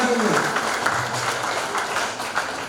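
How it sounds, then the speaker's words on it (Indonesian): Crowd applause at a Bona Taon new-year celebration of the Siagian clan in South Tangerang, Indonesia: a steady wash of clapping lasting a few seconds, with a voice speaking over it. "Tepuk tangan sekali lagi."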